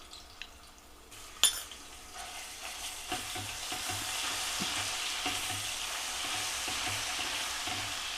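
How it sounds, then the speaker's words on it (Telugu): Ginger frying in a pan for tomato chutney, a steady close sizzle that builds after a sharp clatter near the start, with faint stirring scrapes scattered throughout and no talking. "ఇది కొంచెం బాగా ఫ్రై అయిపోవాలి."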